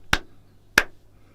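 Two sharp hand claps about two-thirds of a second apart, crisp and close, with a low steady hum underneath and no talk.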